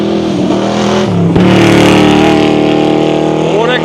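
An off-road rally race car covered in stickers roars past close by on a special stage, its engine note loud and sustained, rising in pitch toward the end.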